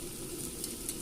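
Rice frying over a high flame in a pan at home, a steady soft sizzle with faint stirring scrapes, close and continuous with no talking.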